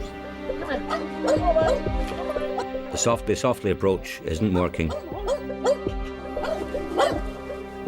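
A cornered police dog barks repeatedly in loud, rapid bursts mixed with yips and whines, close by, while someone speaks over it.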